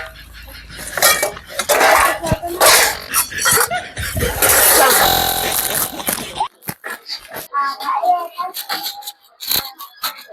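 Metal pots, pans and utensils clattering and clinking close by in a rapid jumble, with people talking over and between the clangs.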